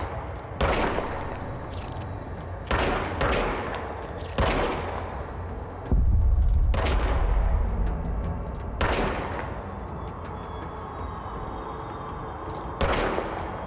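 Gunfire in the video game Control comes as repeated sharp bursts and single loud shots spaced a second or two apart over a dense background, with a heavier rumbling impact midway.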